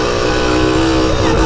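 A custom moped engine bogging down hard, a loud close droning motor that holds a strained, steady tone through the short moment.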